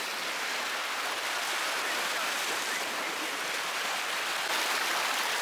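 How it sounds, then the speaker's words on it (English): Choppy water on Lake Garda at Limone produces a steady, broad wash of lapping and splashing, continuous and moderately loud with no voices. "Water's a bit choppy today."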